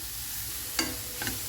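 Onions and capsicum sizzle steadily in a pan while a spoon stirs them, with two distinct scraping strokes against the pan over the constant frying hiss.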